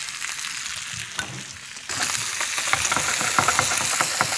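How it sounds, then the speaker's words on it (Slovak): Potatoes fry in a pan with butter, a close, continuous sizzle that jumps louder partway through as they are turned, with scattered light clinks and spatters; no voices. "Dobre tie zemiaky obracať, tak aby boli po obidvoch stranách pekne opečené."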